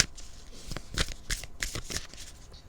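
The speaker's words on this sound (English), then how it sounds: "And I also did shuffle these cards as well" Cards are shuffled close up in a rapid series of sharp riffles and flicks, soft and nearby, with no talking.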